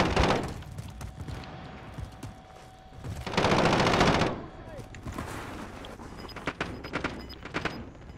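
Bursts of automatic gunfire in the battle royale shooter Call of Duty Warzone, with a loud sustained volley in the middle and scattered shots around it, mixed with game ambience and some talk.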